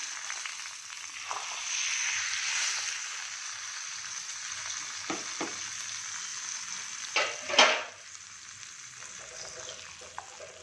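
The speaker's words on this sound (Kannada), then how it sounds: "ಸ್ವಲ್ಪ ತುಪ್ಪ ಇಟ್ಕೊಂಡಿದ್ದೀನಿ, ದ್ರಾಕ್ಷಿ, ಗೋಡಂಬಿ, ಬಾದಾಮಿ ಇಟ್ಕೊಂಡಿದ್ದೀನಿ. ಇವಾಗ ಸ್ಟವ್ ಆನ್ ಮಾಡಿ ಇದು ಒಗ್ಗರಣೆ ಮಾಡೋಣ." Raisins, cashews and almonds frying in ghee for a tempering give a steady close sizzle throughout, with a few sharper spatters and stirring clatters near the end.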